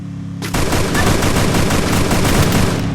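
Automatic gunfire erupts in a battle-royale shooter video game after a short quiet lead-in, a loud, dense stream of rapid shots that continues unbroken to the end.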